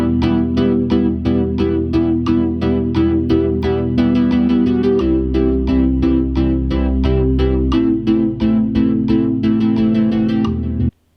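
A bright, plucky GarageBand synth melody recreating a song, with rhythmic repeated notes over a deep sustained bass that shifts pitch midway, playing alone and cutting off abruptly at the end.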